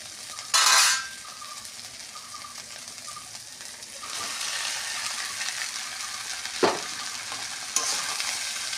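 Rice and boiled potatoes being stirred in a frying pan, with a steady soft sizzle broken by a few sharp scrapes and clinks of a utensil against the pan; no talking.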